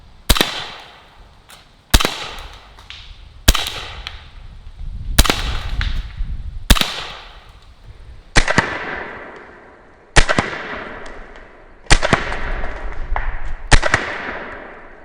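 Nine sharp pistol shots from a Pistelle X-68 fired at soda cans on a table from 15 yards, spaced roughly one to two seconds apart, each a loud crack with a ringing outdoor decay.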